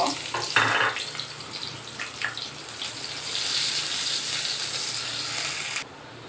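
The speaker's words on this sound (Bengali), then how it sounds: "আর এখানে আমি পেঁয়াজ দিয়ে দিচ্ছি এটা একটু হালকা ভেজে নিব" Onion frying lightly in oil with cinnamon and cardamom for an egg bhapa dish gives a steady, close hiss, with brief crackles and clicks near the start and a sudden drop at the end.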